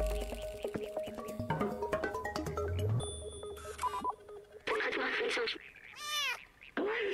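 A cat in the video game Stray meows several times in short, high wavering calls, mixed with electronic game tones and beeps, clear and close with a voice talking over the start.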